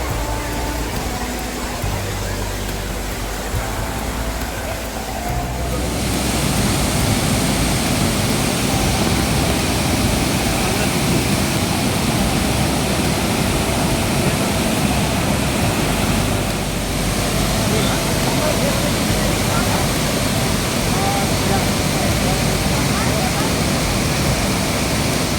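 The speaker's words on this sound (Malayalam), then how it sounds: "ഫൈനലി ഞങ്ങളങ്ങനെ ദൂദ്സാഗർ വെള്ളച്ചാട്ടത്തിൽ എത്തിയിരിക്കുകയാണ്." Dudhsagar waterfall roars as a loud, steady broadband rush of falling water, unbroken for the whole stretch and close at hand.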